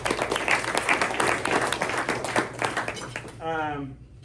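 Scattered applause from a press luncheon audience, a few seconds of crowded clapping that thins out, ending with a person speaking.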